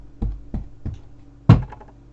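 A wooden chest of drawers knocked three times in a slow, evenly spaced run, then struck once harder as a louder thump, each hit a dull close-up thunk in a quiet room.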